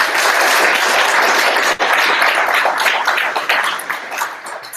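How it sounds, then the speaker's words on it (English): A tech meetup audience claps loudly and continuously after a talk, the applause gradually thinning out toward the end. "Another round of applause."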